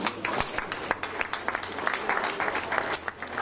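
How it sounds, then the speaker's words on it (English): An audience applauds at a high school football playoff bracket release show, with fairly quiet, steady clapping heard throughout. "Let's give them a round of applause."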